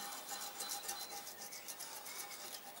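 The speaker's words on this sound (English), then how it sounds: "is scrape off all the silicon" Steady scraping of old silicone sealant off a Kawasaki ER-5/GPZ 500 parallel-twin engine cylinder during a workshop teardown, a close, continuous rasping rub with quick repeated strokes and no talking.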